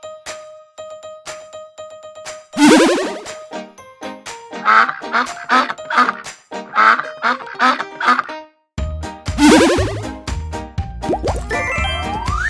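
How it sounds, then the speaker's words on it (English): A duck quacks in a quick series of loud, nasal calls, heard over playful children's music with tinkling chimes. "Duck."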